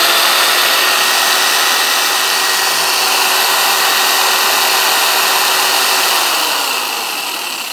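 A Hyundai J-800 Expert jigsaw runs unloaded at speed setting five, giving a loud, steady high-pitched motor whine with a constant hum that eases slightly as it slows at the end, with no speech.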